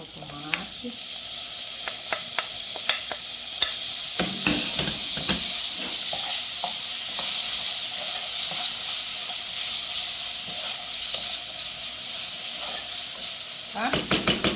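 Tomatoes and calabresa sausage sizzle steadily in a hot pan, a constant frying hiss with occasional scrapes and clinks of a utensil stirring.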